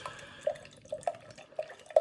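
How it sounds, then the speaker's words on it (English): Beer poured into a Birra Moretti glass, heard as soft trickling with a string of small liquid plops and drips, close and fairly quiet, with no talking. "pour it out, as you can see I'm doing."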